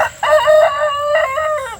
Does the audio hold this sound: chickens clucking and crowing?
yes